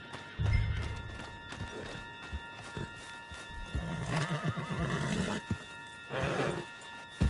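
A horse whinnies and snorts in Red Dead Redemption 2 on PS4 Pro, loud and close, with hoof clip-clop and game ambience around it and no talk.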